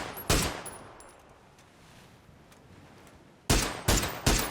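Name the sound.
gunfire and headshots in the video game PUBG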